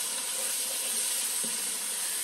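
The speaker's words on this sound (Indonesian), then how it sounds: "Terus kita ongseng, kita tumis sampai harum ya sahabatku ya." Spices and ground pepper sizzle and hiss steadily in a hot pan for Indonesian jackfruit curry, a close, even frying sound with no talk.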